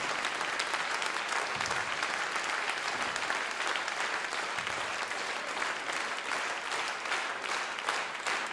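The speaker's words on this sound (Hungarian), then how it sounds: "zúgjon a taps!" Sustained applause from the audience at a 2010 live concert in the Uránia National Film Theatre, Budapest, a dense, even wash of many hands clapping without pause for over eight seconds.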